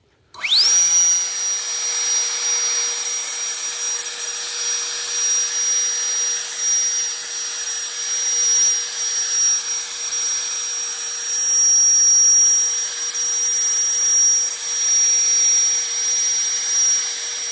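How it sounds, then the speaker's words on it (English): A powerful leaf blower starts up and runs at a loud, steady roar with a high whine, held almost unchanged as it blows leaves, with no voices. "So if you guys need a leaf blower, go ahead and get this one."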